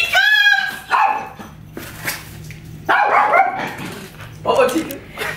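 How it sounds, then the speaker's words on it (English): A dog at home barks in several short bursts, loud and close, with whimpering yips in between as it greets people arriving. "And here's my doggy."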